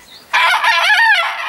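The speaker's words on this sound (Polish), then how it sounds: "Kogutek również jest zeszłoroczny, stąd to takie jego pianie." A single crow from a year-old Dutch white-crested rooster, loud and close, slightly thin and unfinished in tone, rising and then trailing off after a brief quiet moment.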